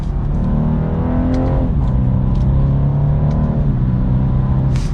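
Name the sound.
BMW 230i accelerating, engine and exhaust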